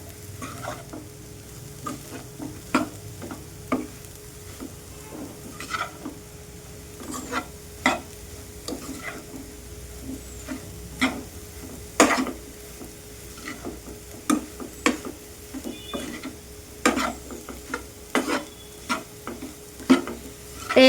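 Raw banana pieces with chili powder and salt frying in a pan are stirred with a utensil, producing repeated scraping clicks in an uneven rhythm over a soft, steady sizzle, heard close up and alone.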